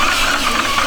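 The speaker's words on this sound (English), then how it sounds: "we're going to spin these engines over now that all of our Lovejoys are connected" Custom V8 assembled from lawn mower engines linked by Lovejoy couplings, being spun over on a plate mount: a steady, close mechanical churn with rattling and knocking texture, continuous for the whole second.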